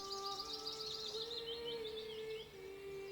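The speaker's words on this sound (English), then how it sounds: "And there's even bird sounds," Birdsong in the medieval city-builder Manor Lords: several small birds chirp and trill in quick high twittering phrases over a steady whistling tone and soft ambient bed, moderately quiet and continuous with no voices.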